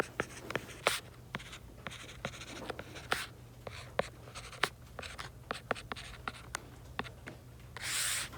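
Pen or marker strokes scratch and tap steadily on a board or paper while writing out a square-root problem, a close run of short rubbing strokes with sharp taps and a longer scrub near the end.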